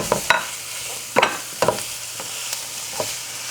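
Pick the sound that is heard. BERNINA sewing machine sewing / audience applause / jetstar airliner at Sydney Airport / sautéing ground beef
sautéing ground beef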